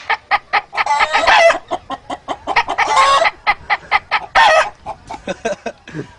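A man imitates a hen cackling after laying an egg: loud, rapid rhythmic clucks rising into repeated squawking bursts, voiced close and alone for several seconds.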